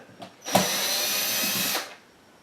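A power screwdriver whirs in one steady burst of just over a second, up close, while removing screws from a Korg Kronos keyboard. Fainter clicks come just before it starts.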